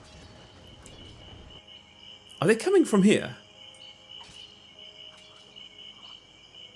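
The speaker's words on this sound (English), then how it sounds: "Wow, those crickets were loud just now." Steady, shrill chirring of crickets fills the ambience of the video game SpellForce: Order of Dawn, continuous and fairly loud throughout, with someone speaking briefly over it midway.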